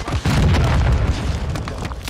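Stun grenade detonating in Call of Duty: Modern Warfare II, a loud booming blast with a sustained low rumble and crackle that fades over about two seconds.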